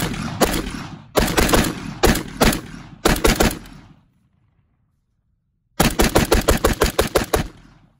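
An AR pistol with a Diamondback barrel and a mixed upper on a pistol lower, run without lube, fires loud close strings of rapid shots at a range, several bursts with a pause, then a final fast string.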